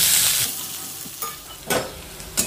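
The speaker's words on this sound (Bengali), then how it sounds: "আলু আর পেঁয়াজ এবার একটু ভালো করে ভেজে নেব।" Potato and onion fry in a pan, a loud steady sizzle with a few brief stirring scrapes breaking through, close up and with no talk.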